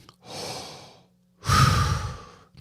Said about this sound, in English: take in a big breath, like this